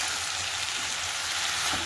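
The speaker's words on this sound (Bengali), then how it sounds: "এদিকে আলু ফুলকপি তরকারিটা ভালো করে কষিয়ে নেবো, নাড়াচাড়া করে নিয়ে ভালো করে কষিয়ে" Potato and cauliflower curry frying in a pan while being stirred, a steady broadband sizzle that stays even and close throughout with no voices.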